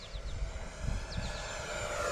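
RC ducted-fan model jet, an 80mm Rafale or 90mm Viper, making a half-throttle flyby: a steady high whine with a rising tone and faint rushing noise throughout.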